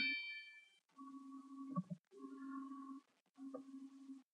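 A clock in The Colonel's Bequest video game chimes eight o'clock, sounding as a series of soft, ringing electronic tones in short phrases separated by brief silences.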